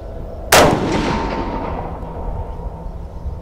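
One sharp, loud shot from an Armalite Super Sass .308 rifle cracks out, followed by a long, rumbling echo that fades slowly over several seconds.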